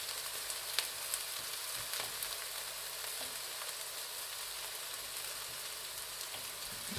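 Onions frying in a pan on a turned-down flame for shakshuka, giving a steady, even sizzle that stays close and moderately quiet with faint crackles, no voices over it.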